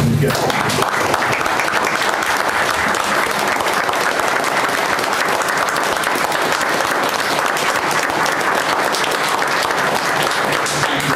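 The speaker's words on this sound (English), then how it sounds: "I'd just like for everybody to join me in a round of applause." Loud, steady applause from a crowd at a staff meeting fills the whole stretch without letting up.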